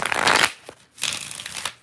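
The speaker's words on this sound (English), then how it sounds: "3 shuffles." Tarot cards are shuffled in two quick riffling bursts separated by a short pause, crisp and close.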